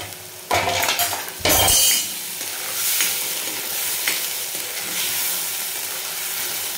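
Masala sautés in a pan for shev bhaji, with a constant loud sizzle and two heavy bursts of spoon-against-pan clatter early on, followed by steady frying with occasional light scrapes.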